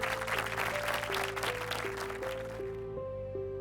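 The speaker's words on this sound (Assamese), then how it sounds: "সম্বৰ্ধনা হাত চাপৰি কম হৈছে।" Applause at a felicitation ceremony for a TV channel's seventh anniversary, a brief burst of crowd clapping that fades out under steady background music tones.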